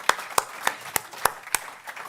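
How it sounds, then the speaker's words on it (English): Single pair of hands clapping at a journalism symposium, six or seven crisp, evenly spaced claps about a third of a second apart, close and clear with no crowd applause around them. "Biggest round of applause so far."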